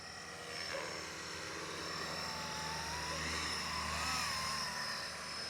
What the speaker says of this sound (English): It's just a calm helicopter that loves doing fast forward flight.